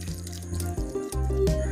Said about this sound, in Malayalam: ഇനി നമ്മളിതിലേക്ക് വെള്ളം ഒഴിക്കുക കേട്ടാ.